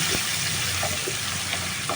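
Tomato and spices fry in a pan for a split-pea fritter curry, making a steady dense sizzle with a few soft scraping stirs, close and alone.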